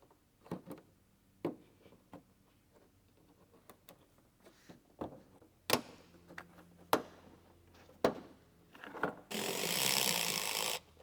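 Hand tools pull bolts from a 5th generation Toyota 4Runner bumper, giving faint scattered ticks, clicks and metallic taps at close range, with a short louder whirring burst near the end.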